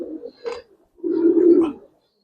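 Giribaz silver pigeons cooing up close, two short soft coos followed by a longer rolling coo, loud and clear with a quiet gap between them.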